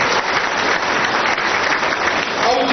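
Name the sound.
audience applause welcoming at a community conference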